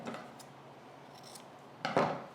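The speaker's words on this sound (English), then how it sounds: "So I stitched across the bottom and then you can trim into that corner" Scissors trim into the corner of a sewn fabric piece for a coat, giving a few quiet snips with a crisper, louder cut near the end.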